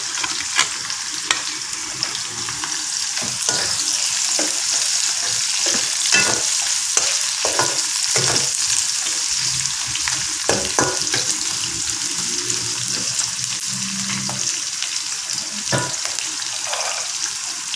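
Curry leaves, green and ripe red chillies, ginger and garlic stir-fried in a pan while making mutton perattal: a steady, fairly loud hiss of sizzling oil broken by repeated scraping stirs of a spatula, with no voices.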